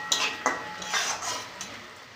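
A spoon stirs chopped onion, chillies, Kashmiri chilli powder and turmeric in a pan, heard as a few sharp metallic clinks followed by soft scraping, short and close, with no voices.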